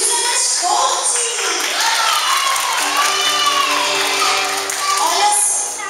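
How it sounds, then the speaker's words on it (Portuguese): A crowd of children at a church congress session cheers and shouts continuously, with scattered clapping mixed into the loud, steady wall of young voices. "Vamos aplaudir, vamos aplaudir. Palmas para Jesus, é mais forte."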